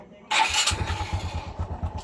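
A Honda XRM 125 motorcycle that blows white smoke and has not been rebored is started, catching abruptly with a loud burst, then settling into a rapid, pulsing idle, close up.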